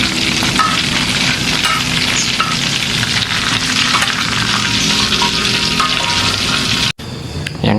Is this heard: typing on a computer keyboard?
no